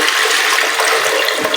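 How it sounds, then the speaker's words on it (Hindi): Water pours steadily into a pan, a loud, continuous splashing rush at close range with no talking, while mutton is prepared for steam roasting in a pressure cooker. "हम इसमें पानी डालेंगे।"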